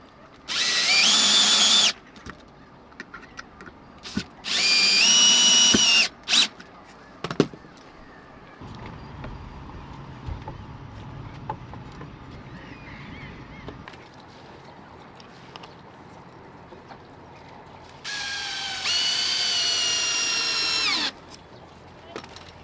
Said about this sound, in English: make the screw fasten into the more dense plywood.